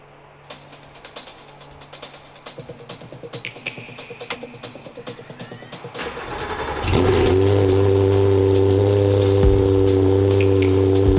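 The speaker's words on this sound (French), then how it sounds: "démarrons cette GT3 équipée du nouvel échappement Dundon" Porsche 911 GT3 fitted with a new Dundon exhaust is started: a run of rapid mechanical clicking and ticking from the starter builds for several seconds before the engine fires and settles into a loud, steady, booming idle.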